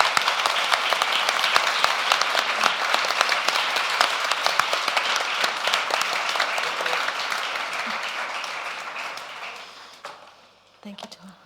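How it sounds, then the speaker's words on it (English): A conference audience applauds a panel, with dense, lively clapping that holds strong for several seconds and then thins out and fades. A few scattered claps remain at the end, and voices are faintly present. "can you please give this panel a big round of applause?"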